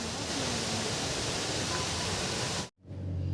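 Gudguda waterfall pours as a steady, dense roar of rushing water, continuous and fairly loud before cutting off abruptly near the end.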